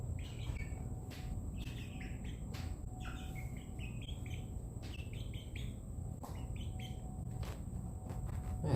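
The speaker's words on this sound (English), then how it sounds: "silkies are such funny little birds" Silkie chicks chirp and peep in quick, high-pitched bursts over a steady low rumble and faint insect-like hiss, with no voices.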